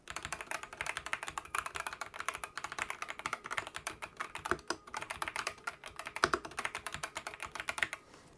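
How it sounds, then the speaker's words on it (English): Rapid, continuous typing on a computer keyboard, close and clear, with dense uneven keystrokes and no talking. "I'll give you an example of what it sounds like to type on"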